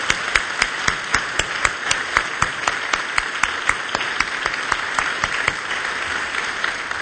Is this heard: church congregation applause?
yes